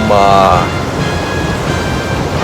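Ocean surf breaking against the rocky coast at Gris Gris cape in Mauritius, a steady broadband wash of waves with wind rumble throughout, and a brief voice near the start.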